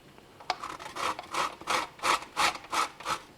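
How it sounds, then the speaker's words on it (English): Fruit peel rasps against a grater for jam in a steady run of about eight rhythmic scraping strokes, close and fairly loud, with no talking. "I will go ahead and use my grater"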